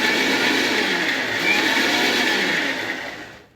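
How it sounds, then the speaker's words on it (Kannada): A mixer grinder grinds muskmelon pulp in one steady, loud, continuous whir that runs for a few seconds and then cuts off at the end. "ನೆಕ್ಸ್ಟ್ ಇದನ್ನ ಗ್ರೈಂಡ್ ಮಾಡ್ಕೊಂಡು ಬಿಡೋಣ. ಇದನ್ನ ಆನ್ ಆಫ್ ಮಾಡಿಕೊಂಡ್ರೆ ಸಾಕು."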